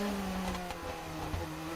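A Formula 2 race car engine during Monaco qualifying, a steady high-pitched engine whine that dips slightly as the car lifts off in traffic, heard at moderate distance with no talking.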